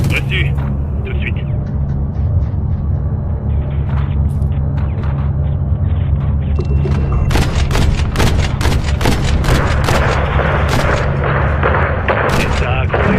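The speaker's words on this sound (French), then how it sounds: "Shadow, troupe au contact. Faites feu." Heavy gunfire and artillery fire in a French-language war action film, a dense run of sharp shots and booms over a constant low rumble, growing busier and louder toward the end with voices audible beneath.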